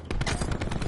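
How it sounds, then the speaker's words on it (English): Rapid automatic gunfire from a Call of Duty match, a dense, loud burst of repeated shots filling the whole moment with no talking. "who's shooting at who?"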